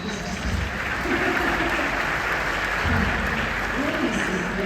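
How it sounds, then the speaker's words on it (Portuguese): Applause from an audience at a talk on sport and success, a steady dense wash of clapping filling the room, with a voice speaking over it. "Então, aplauda de novo, por favor"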